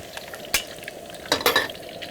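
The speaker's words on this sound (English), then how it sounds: "Kind of do a double fry." Beef in a second fry in hot oil for kung pao beef, heard as a soft sizzle with a few sharp clinks of a utensil against the pan or wok, close by and brief, no talking.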